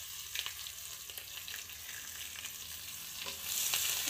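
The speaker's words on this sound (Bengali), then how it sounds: "একটু ভাজা ভাজা হয়ে গেলে তারপরে মাংসটা দিয়ে দেবো" Chopped onion and garlic sizzle in hot oil with cumin already reddened in the pan, a steady close hiss broken by brief scraping stirs, growing slightly louder near the end.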